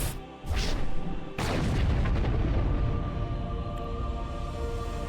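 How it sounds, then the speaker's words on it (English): A mass relay explodes in Mass Effect 2 with two sharp booming blasts, then a loud, sustained rumbling roar that slowly fades. "Be one heck of an explosion though"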